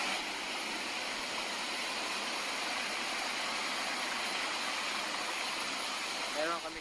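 A waterfall in the Filipino wilderness, a steady, dense rush of falling water with a person talking over it.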